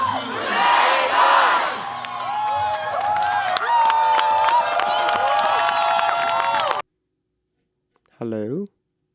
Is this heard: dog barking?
no